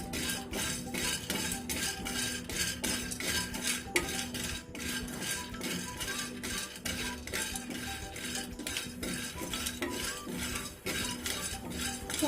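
A spoon scrapes and clinks in a rapid, steady rhythm as mixed-lentil sandge made from moong, urad, toor and chana dal are stirred and roasted in a pan, with a faint sizzle underneath.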